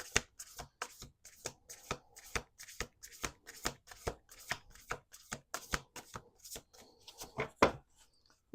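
A deck of Urban Crow oracle cards is shuffled by hand, giving a long run of crisp, evenly spaced riffling slaps close to the mic, about two per second, with no talk.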